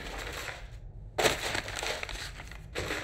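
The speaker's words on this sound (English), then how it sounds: "a book crusher in a basement crushing books" A book crusher in a basement crushes books: a sudden loud crunching burst follows a brief hush, then trails into a grinding, crinkling rustle.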